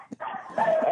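Dogs bark and yip in a brief, close burst, busy and overlapping, heard in a radio studio setting.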